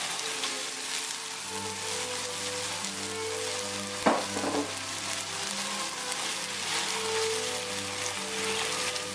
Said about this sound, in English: Now we're going to add our beautiful ground pork.